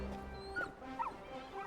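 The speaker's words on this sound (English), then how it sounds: "Dog. Quiet, Torgal. Stop it, boy." Torgal, a dog in Final Fantasy 16, gives a few short yips and whimpering barks, near and moderately loud over a low game soundscape.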